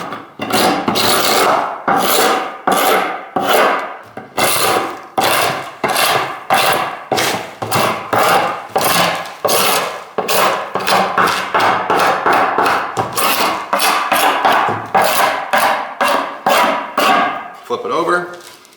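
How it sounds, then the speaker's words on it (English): A glue scraper is pulled across cedar to remove dried glue, making loud, rhythmic rasping strokes, roughly one or two per second, repeated steadily and close up. "use a glue scraper to scrape off the extra glue"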